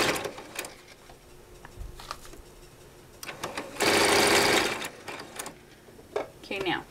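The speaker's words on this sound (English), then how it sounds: "So when you're sewing, just kind of help pull" Sewing machine stitching fleece for a hammock, running in short close bursts with a longer fast run in the middle, mixed with fabric rustling and handling noises.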